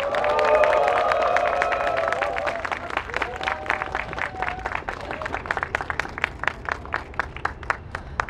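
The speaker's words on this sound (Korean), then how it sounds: "심상정 상임대표님을 큰 박수로 모시겠습니다." A rally crowd applauds and cheers as a party leader is welcomed at a protest gathering, loud at first with shouting, then settling into steady, distinct rhythmic clapping that continues to the end.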